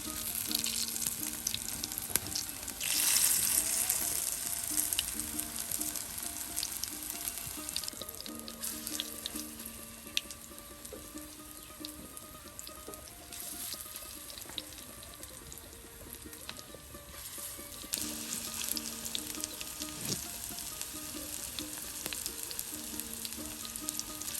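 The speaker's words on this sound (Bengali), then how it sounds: "একে একে দেখুন প্রত্যেকটি বড়া দলা বানিয়ে নানি তেলের সাথে দিয়ে দিচ্ছে।" Moong dal fritters (bora) are dropped one by one into hot oil for a village iftar, giving a steady, close sizzling and crackling frying sound that goes on without a break and with no talking.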